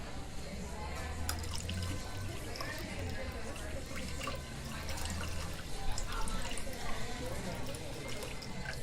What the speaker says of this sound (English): Here, let me pour some coffee into your mug for you.